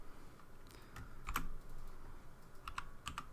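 Keys click on a computer keyboard while an IF formula is typed into an Excel spreadsheet, with quiet scattered keystrokes in small bursts and a few sharper taps, close and without talk.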